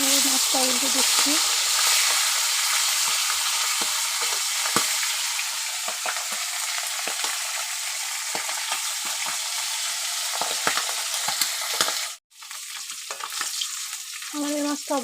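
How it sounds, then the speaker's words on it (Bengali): Fish sizzles steadily and loudly in hot oil in a home kitchen while being flipped, a continuous crackling fry broken by a brief pause near the end. "মাছটা উল্টে দিচ্ছি"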